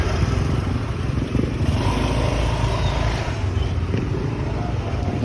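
A motorcycle fitted with a CRP Taiwan Racing Parts muffler runs in a loud, steady, unbroken roar aboard a ferry to Camotes Island, with no clear talking.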